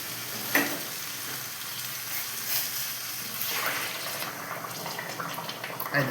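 Hot water hits a hot pan of chicken and potato curry with a sharp hiss, settling into a steady bubbling sizzle with light clinks of stirring.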